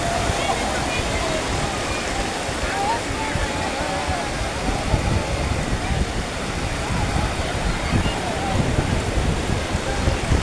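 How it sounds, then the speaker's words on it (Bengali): Strong sea waves crash and surge continuously on the beach at Cox's Bazar, a loud broadband roar of surf that fills the scene with steady rushing water throughout. "প্রচণ্ড ঢেউ।"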